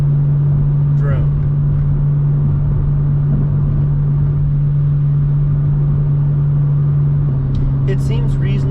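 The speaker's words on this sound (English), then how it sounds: "You can hear the drone in the car" Steady low exhaust drone fills the cabin of a BMW M2 while driving, a constant hum running the whole time beneath a voice talking over it.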